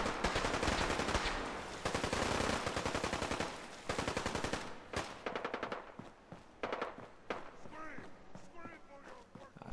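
Rapid automatic gunfire rattles in loud bursts in Fallout 4, dense volleys at first, then thinning into scattered shots and sharp impacts with brief pauses between.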